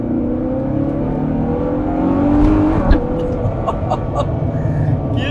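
A Danish hypercar accelerates hard with loud engine revs, a pitch rising through each gear and a sharp shift break near the middle, followed by a sustained high-revving roar close by.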